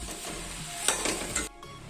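Soybean, potato and tomato frying in a pan in a home kitchen, with a close sizzle and scraping stirs that cut off abruptly near the end.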